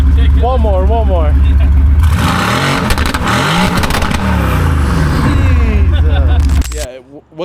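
A Mercedes-AMG GT R with a 4-liter twin-turbo V8 roars loudly at close range, a sustained heavy rev that holds for several seconds before cutting off, with people talking over the start.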